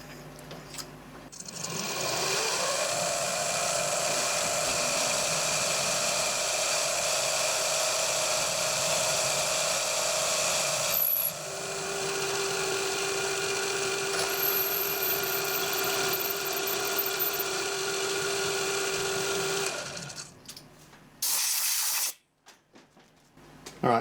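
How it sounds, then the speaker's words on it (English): A steady, loud machine whine runs continuously for about twenty seconds while a 1/4 inch hole is reamed in metal for a model aircraft engine part, its pitch holding level with a brief dip midway, then cuts off abruptly. "then we'll ream 1/4 inch"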